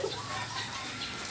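A white Kelso over Gilmore hatch gamecock stag gives soft, brief clucks close by against a steady background hiss.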